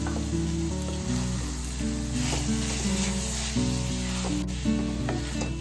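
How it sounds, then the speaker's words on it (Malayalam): Banana flower sizzles steadily in a hot pan, with a low hum and tonal background sounds layered over the constant frying hiss; no talking. "കുടപ്പന ഒന്ന് അങ്ങോട്ട് ഫ്രൈ ആയി കഴിഞ്ഞ്"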